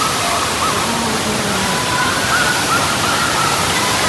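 A twin waterfall on a trekking route pours in a constant loud broadband roar of falling water, close and unbroken, with faint voices underneath.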